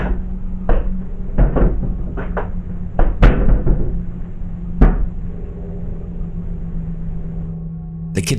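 A kitchen cabinet door in a house slams shut hard several times, sharp loud bangs scattered over a steady low hum, with one especially forceful slam standing out among the knocks.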